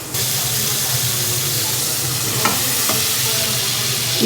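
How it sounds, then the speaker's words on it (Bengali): Onion, ginger-garlic paste, garam masala, cumin, coriander and chili powder frying in hot oil: a steady, close sizzle runs throughout, broken by a couple of brief scraping stirs, with no talking. "তেলের উপরে পেঁয়াজ দিচ্ছি আদা রসুন বাটা গরম মশলা জিরা ধনিয়া হালকা মরিচের গুঁড়া সব কিছু দিয়ে মশলাটা কষাচ্ছি"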